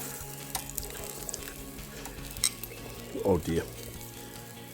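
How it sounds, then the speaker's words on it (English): Wagyu beef sausages sizzle steadily on a BBQ grill, a constant soft frying hiss under a brief spoken exclamation, with a few light clinks from utensils. "We're ready for another quarter turn of the sausages."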